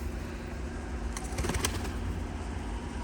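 Flock of released pigeons flying back overhead, a burst of wing flapping and fluttering near the middle against steady outdoor background noise, with no one talking.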